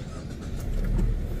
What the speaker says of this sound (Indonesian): tinggal injek pedal rem dan tekan start button di sebelah kiri sini untuk menyalakan mesinnya